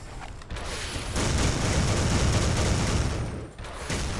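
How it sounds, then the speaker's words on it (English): A Crucible video game match produces dense, sustained bursts of gunfire and explosive booms from shotguns, rifles and rocket launchers. The loud, continuous barrage swells in the middle and eases briefly near the end. "this switching it up from shotgun to AR to rocket launcher"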